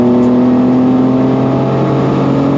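Mini Cooper race car on a circuit at full throttle during an official race, a loud steady engine drone with a strong buzzing tone, held close and constant through the gear change.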